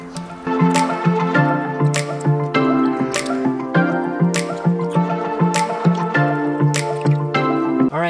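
Water scooped from a home aquarium into a bucket, with several scoops splashing at a steady, roughly one-per-second pace over a continuous tonal background.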